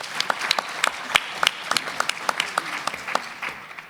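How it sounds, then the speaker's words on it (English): Scattered, uneven clapping from an audience in a conference room at a rare disease policy session, with individual sharp claps that stay moderately loud and steady for the whole stretch. "So this room deserves a round of applause"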